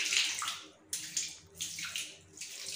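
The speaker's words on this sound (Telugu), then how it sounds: "రుద్దిన తర్వాత వాటర్ వేసి మొత్తం ఇలా క్లీన్ చేసుకుంటున్నాను." Water is poured over bathroom tiles during cleaning, making a steady splashing rush in three surges, close by but fairly quiet, with no talk.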